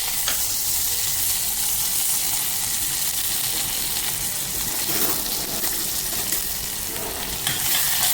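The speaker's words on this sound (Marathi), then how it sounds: "नंतरने गेलेला आहे कांदा आणि एक मिरची" Sliced onion and a green chili sizzle loudly in hot oil with whole spices for a tempering, a dense continuous crackle close by with a few soft stirring scrapes.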